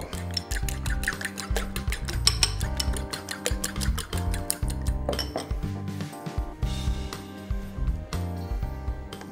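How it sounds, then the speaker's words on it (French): Eggs beaten with a fork for an omelette, a busy run of quick clinking and tapping against the bowl with short pauses, close up and with no talking. "On prend une fourchette, pas le fouet, une fourchette,"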